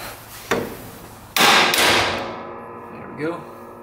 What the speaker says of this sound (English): we'll just palm it off with a hammer.